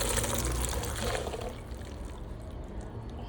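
Water pours and drains from boiled green peas in a strainer, a continuous splashing flow that is strongest at first and eases into a softer trickle, close by.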